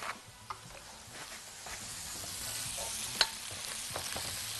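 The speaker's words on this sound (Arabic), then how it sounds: "البصلايه بعد ما دبلتها كده وديتها كده تشويحه على النار" Onion sautéing in a pan on the stove, a soft, steady sizzle and hiss with occasional stirring clicks, quiet and close, with no talking.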